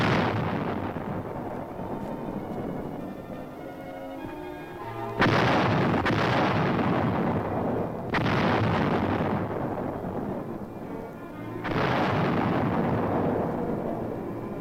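155 mm howitzers fire near Seoul during the Korean War, several heavy booms landing a few seconds apart, each followed by a long rumbling decay, loud and distant-sounding in archival film audio with no talk.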